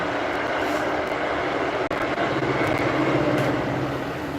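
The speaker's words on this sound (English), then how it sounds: "I'm sorry, these trains are loud. I live right next to a train." A train passes right beside a house, a loud, continuous broadband roar with rattling, and a sharp click cuts through partway.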